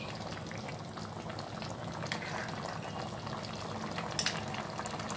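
A pot of white khurma, a creamy dish made with almond paste and cream, cooks on a high flame, giving a steady low bubbling simmer with occasional small pops throughout.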